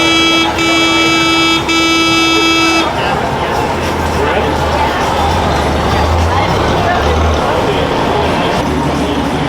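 Amphibious cars pull away at Disney Springs. A sustained horn honks in several bursts during the first few seconds, then low engine rumble and outdoor crowd noise carry on, fairly loud and close.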